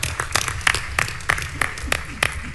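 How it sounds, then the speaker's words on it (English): Audience members at a panel debate on immigrant rights clap in a loose, uneven way, a few sharp claps standing out near and distinct against quiet murmuring and low room noise. "Y'all, we can clap for that."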